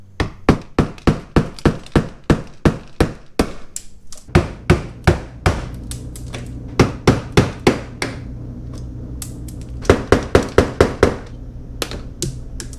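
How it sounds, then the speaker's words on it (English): Sharp, rapid metallic hammer strikes drive a screwdriver to knock rivets out of a C7 Corvette front splitter, in close, loud bursts of repeated blows with brief pauses between. "Alright, so we got all 10 of the rivets knocked out."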